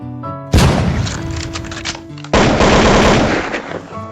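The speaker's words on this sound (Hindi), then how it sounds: "बस अपने देश की तोपों की गोलाबारी जारी थी।" Heavy artillery fire with a loud, dense roar of rapid blasts that builds sharply, drops briefly, then bursts back in, close and overwhelming.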